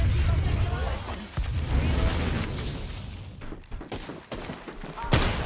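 Rapid gunfire from Apex Legends combat, a dense loud barrage of shots with booming impacts that thins out midway before a final sharp burst near the end.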